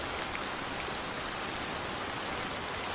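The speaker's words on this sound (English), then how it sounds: "Rain in Singapore isn't just about getting wet, it transforms the city into something totally different." Rain falls steadily in Singapore, an even, dense hiss of drops on hard surfaces with no pauses or voices.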